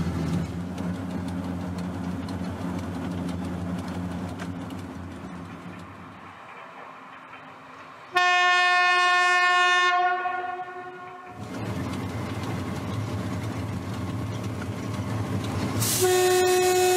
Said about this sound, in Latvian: Tagad mēs atbraucam ar Tvaika lokomotīvu